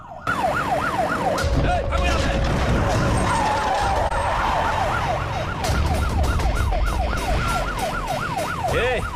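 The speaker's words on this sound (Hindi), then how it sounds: "एम्बुलेंस है यार, बाहर आ जाओ।" A loud ambulance siren in a film wails continuously in fast up-and-down sweeps, close by, over traffic rumble and some background noise.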